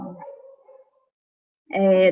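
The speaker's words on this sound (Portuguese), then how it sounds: "Agora tem a participação aqui dos meus cachorros aqui." Dogs at home give a couple of short barks and yips, the first softer and trailing off, then a louder, close bark after a brief silence.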